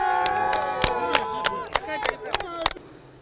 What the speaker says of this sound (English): his thanks to the President are interrupted by his tears and crowds surrounding the scene, clapping.